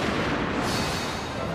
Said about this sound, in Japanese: 赤備えの陣馬が銃声とともに迫りくる